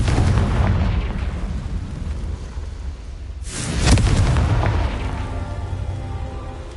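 A Confringo blasting spell explodes in Hogwarts Legacy, a loud booming burst that swells mid-clip over a rumbling, continuous roar of game noise.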